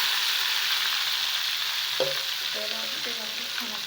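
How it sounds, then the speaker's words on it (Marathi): Onion, tomato and garlic gravy masala frying in a pan for restaurant-style gobi matar, a dense steady hiss of sizzling with a few soft tonal clinks midway; no voices. "आता आपला हा मसाला थोडासा फ्राय झाला आहे"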